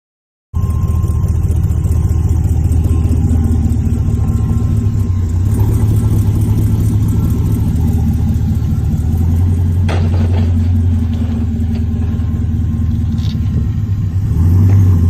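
An LT4 V8 crate engine swapped into a grandfather's El Camino drives on its first test run, giving a steady loud rumbling drone with slight revving swells throughout and no talk.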